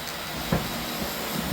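Model railroad freight train running on a home layout past an Amtrak station, a steady rolling hum with a soft thump partway through, continuous and unaccompanied by speech.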